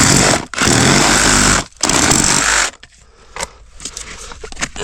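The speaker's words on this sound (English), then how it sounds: "And now we're just going to cut our 3-inch pipe right here." A power saw cuts through 3-inch farm drainage pipe in three loud, close bursts of buzzing and grinding, then gives way to scraping and handling noises.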